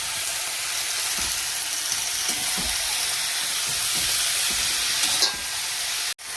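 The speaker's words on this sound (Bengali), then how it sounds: "সবজিটা ভালো করে ভাজা হয়ে গেছে" Steady sizzling of vegetables and leafy greens frying in a pan, with occasional stirring clatters, continuous and close.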